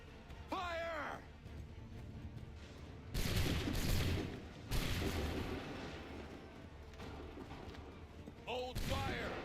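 Musket volley fired on command in Assassin's Creed III, with broad, booming bursts of gunfire crashing out around three and five seconds into the clip, voices shouting between the shots.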